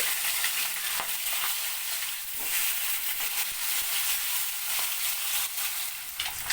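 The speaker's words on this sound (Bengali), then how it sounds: "মাছগুলোকে একটু উল্টে দিচ্ছি" Flipped catla fish pieces, seasoned with salt and turmeric, keep frying in oil with a close, continuous crackling sizzle, broken by a few faint clicks of a utensil.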